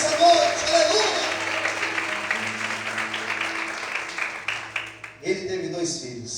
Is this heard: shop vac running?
no